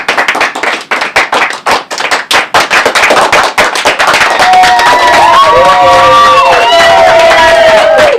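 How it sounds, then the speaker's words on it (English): Studio audience at a late-night Christmas special comedy show bursts into loud clapping that gives way to cheering and whoops, with voices shouting over the sustained applause. "You guys give yourselves a round of applause."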